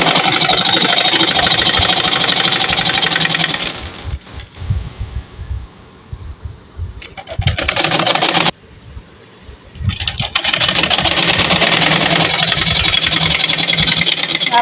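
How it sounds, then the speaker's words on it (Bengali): A sewing machine stitches fabric stretched over elastic while making a simple pajama, running in loud, fast, steady whirring bursts, pausing for several seconds with softer clicks and handling noise, then running again. "এই যে রাবারের উপর দিয়ে এখন কাপড় টেনে টেনে আরেকটা সেলাই দিব।"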